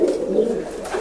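Pigeons coo softly inside a pigeon loft, a low, steady murmuring with no talk over it.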